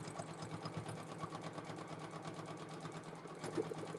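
A quilting sewing machine stitches steadily along a stitch line, a continuous fast mechanical whir with rapid needle rhythm, close and alone.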